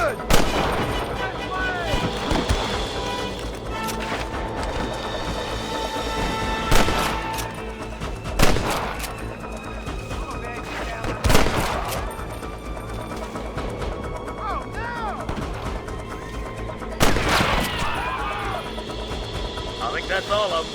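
Gunfire rings out in a shootout in the Western video game Red Dead Redemption, repeated loud shots and booming blasts over a dense battle din, with character voices speaking amid the fight.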